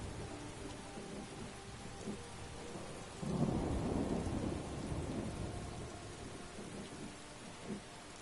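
Rain and thunder in the video game Skyrim, a steady wash of rainfall with a deep rumbling thunder roll swelling midway and fading back into the downpour, no voices.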